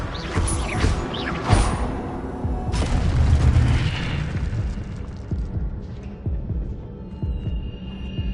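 Spell effects from Hogwarts Legacy, an Incendio fire spell and a Levioso levitation charm, sounding as a series of loud booming magical bursts and crackling whooshes, dense at first and then thinning into a rumbling tail.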